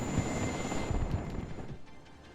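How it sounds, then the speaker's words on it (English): Helicopters push toward the front line in the real-time strategy game WARNO, their rotor and engine noise a steady low rumble and whir mixed with battlefield sounds, fading slightly toward the end. "starting to see some helicopters trying to push through the line though"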